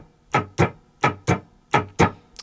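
Acoustic guitar strummed in a swung rhythm, the upstrokes landing slightly late, giving three close pairs of bright, percussive strums with a short uneven gap inside each pair, clear and close with no talking.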